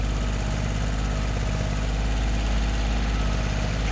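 A tractor fitted with a backhoe attachment runs steadily throughout, its low engine drone constant and close with no break or change in pitch.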